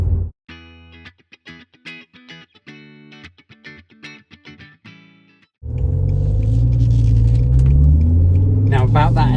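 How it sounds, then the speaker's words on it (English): Heard from inside the cabin, a BMW E60 M5 with a V10 and SMG gearbox revs hard, a deep loud rumble rising in pitch, after a stretch of choppy, bright electronic tones. "Sure, when you put your foot down, you can hear the exhaust note"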